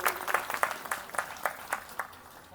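Applause from the crowd at a couples' conference, heard as a short run of fairly faint, evenly spaced claps that carry a steady rhythm and then fade out.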